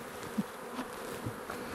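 Honey bees buzz steadily from an old hive left alone for twenty years inside a bee box cutout, a dense, continuous hum close by with no talking.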